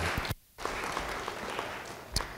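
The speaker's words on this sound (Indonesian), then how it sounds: "Yang percaya beri tepuk tangan bagi dia." A church congregation applauds steadily at moderate distance, with a brief pause in the clapping before it resumes.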